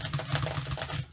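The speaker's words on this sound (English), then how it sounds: "You guys typing, the both of you." Rapid, fairly steady clicking of keys on a keyboard, close by, with no voices.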